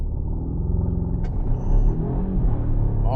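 A 2025 Volvo XC90 T8 Ultra plug-in hybrid SUV, 455 hp with all-wheel drive, pulls hard from a standstill at night, a steady low engine and road rumble swelling slightly as it gains speed, heard from inside the cabin.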